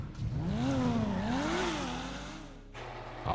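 A Porsche GT3 in GTA 5 revs hard, its engine note rising and falling through several climbing and dropping sweeps before cutting off near the end, loud and close with no talking.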